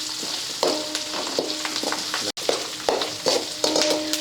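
Curry leaves crackling and sizzling in hot oil while masala khara spice mix is roasted, a steady fry with frequent sharp pops and occasional stirring scrapes.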